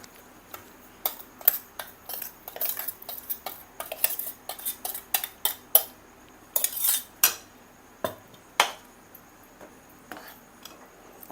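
Ground roasted spice powder is mixed into a tamarind mixture for puli kaichal with a spoon, producing a close series of irregular metallic clinks and scrapes against the vessel, separated by short pauses.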